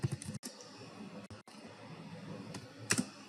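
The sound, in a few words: typing code on a computer keyboard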